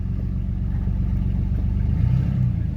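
A car engine revs steadily at close range as the driver shifts into second gear, after a jump has left first gear gone, giving a continuous low rumble that swells slightly near the end, with no talking.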